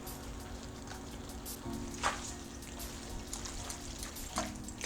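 Bucatini pasta simmering in amatriciana sauce with guanciale in a pan over medium heat, giving a steady soft sizzle and bubbling with a few faint clinks.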